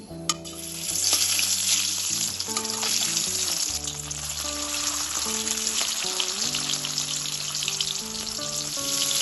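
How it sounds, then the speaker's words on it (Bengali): Fish rubbed with salt and turmeric fries in hot mustard oil in a wok, giving a dense, continuous close-up sizzle with soft crackles. Melodic background music plays underneath throughout. "তেলটা গরম হয়ে গেছে এখন আমি এর মধ্যে দিয়ে দেবো মাছ"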